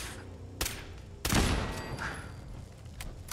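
Gunshots in the game Fallout 4: a sharp shot, then a heavier blast with a rumbling tail about half a second later, over steady game ambience with no talking.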